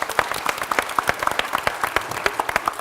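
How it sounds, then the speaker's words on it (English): A live audience claps in a brief round of applause, sharp individual claps standing out in an irregular patter close by. "Give it a nice round of applause."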